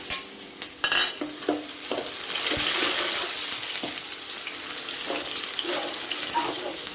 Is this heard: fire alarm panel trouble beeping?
no